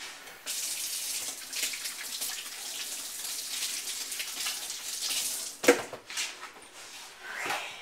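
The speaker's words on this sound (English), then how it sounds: "Wash my hands." Hands washed under a running kitchen tap after handling sausage, a steady close rush of water with a brief louder splash and clunk late on, then trailing off, no voices.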